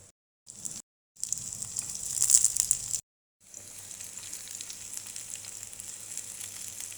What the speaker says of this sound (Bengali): এখন দিয়ে দিব পেঁয়াজ রসুন কাঁচামরিচ, হালকা করে একটু ভেজে নিব